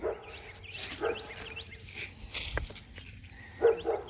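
A dog barks excitedly some distance away, with several short yips and barks scattered over a few seconds, fairly faint against an outdoor backdrop in a yard with bird feeders.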